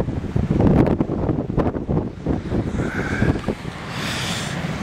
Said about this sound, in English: Let's see how strong the wind is.